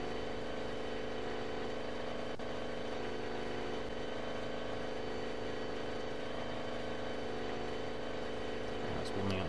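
Engine 2 of a B-17G bomber warming up in Flight Simulator X, a steady, loud piston-engine drone with a constant whirring hum that holds evenly throughout.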